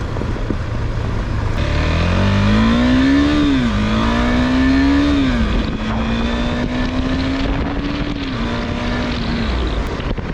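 A 2022 KTM 390 Adventure single-cylinder motorcycle on TKC 70 tires riding along a road, engine droning steadily and loudly with rising and falling pitch through gear changes, under constant wind rush.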